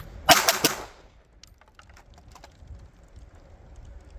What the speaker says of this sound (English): we'll see if point shooting is better